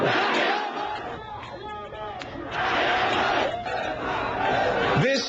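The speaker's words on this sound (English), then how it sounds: "Crowds are chanting the same slogans now against their first leader." Large protest crowd in Cairo's Tahrir Square chanting slogans in loud rhythmic waves, voices massed together with brief lulls between surges.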